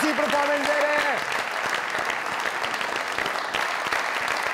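Studio audience applause on a comedy talk show, a steady dense wash of clapping that carries on throughout after a host's voice at the start.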